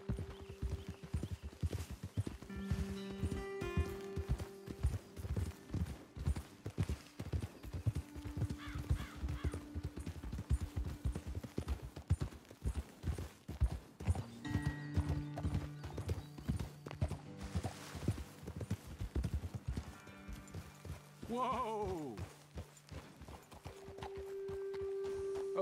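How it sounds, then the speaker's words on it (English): Steady clip-clop of horse hooves walking at an even pace throughout in the video game Red Dead Redemption 2, with a brief whinny near the end and no talking. "Best leave the horses back a bit."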